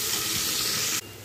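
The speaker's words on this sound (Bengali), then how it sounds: "বাদামি করে ভেজে নেব।" Chopped onions frying in a pan until browned, giving a dense, steady sizzle close by that stops abruptly near the end of the short burst.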